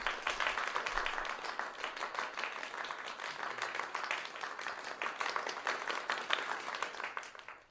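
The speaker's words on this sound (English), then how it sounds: "The applause goes longer for him because of the transition from seat to seat." Sustained applause from a crowd, dense steady clapping that carries on for several seconds before tapering slightly at the end.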